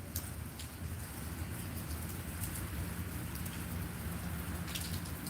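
Heavy rain drips steadily off a metal roof onto a hard surface nearby, a dense constant wash of droplets with no voices.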